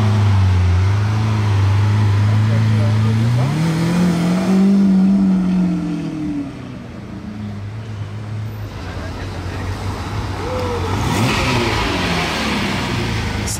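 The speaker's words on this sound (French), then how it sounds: "Sympa la Testarossa en noir comme ça là." A black Ferrari Testarossa on Monaco's Casino square gives a loud, close engine rev that rises and falls, with steady traffic rumble and crowd noise around it and people talking nearby.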